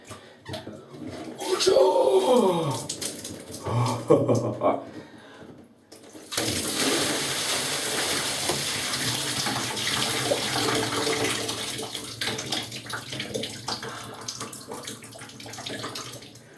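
During an ice bucket challenge, water with ice pours out in a loud, rushing splash that runs steadily for about ten seconds, preceded by people talking and some clattering.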